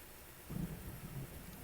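Rain and rolling thunder in a Civil War battle game set in a storm, a steady hiss of rainfall over a low rumble that swells partway through and stays moderately loud, with no voices.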